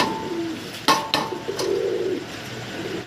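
Domestic pigeons at a pigeon seller's coop give soft, low cooing calls against a quiet background, with a few sharp knocks and clatters in between.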